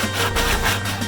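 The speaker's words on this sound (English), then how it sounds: "Sanding down all the edges." Sanding along the edges of a homemade laminar flow hood, a steady close rubbing rasp with slight rhythmic surges and no talk.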